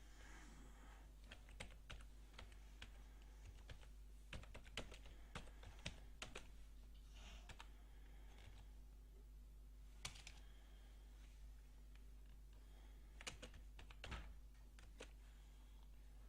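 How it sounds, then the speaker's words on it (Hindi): Fingers type on a computer keyboard in steady bursts of faint, close clicks and key taps, with short pauses between runs. "कोई भी मैटर टाइप कर लूँ"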